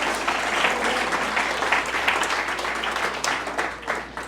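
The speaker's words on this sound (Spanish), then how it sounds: "Dele un aplauso al Señor, hermano." Steady applause from a church congregation at an evangelical sermon, many hands clapping densely and evenly throughout, loud and filling the room without talk over it.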